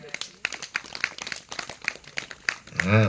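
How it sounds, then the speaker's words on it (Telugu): A church congregation claps in a quick run of separate, crisp hand claps, close and fairly loud, with a voice rising near the end. "నమ్మిన వాళ్ళందరూ గట్టికి చప్పట్లు కొట్టండి ఒకసారి"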